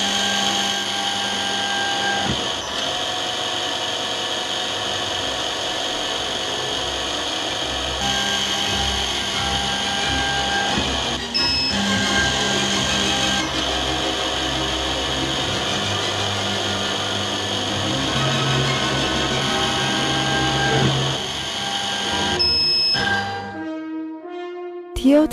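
A DM-200 drilling machine runs while drilling holes in eyeglass lenses, giving a steady, close motor whine with faint clicks that continues almost unbroken before stopping near the end.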